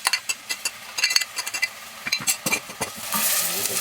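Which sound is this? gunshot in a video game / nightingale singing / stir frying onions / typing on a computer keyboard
stir frying onions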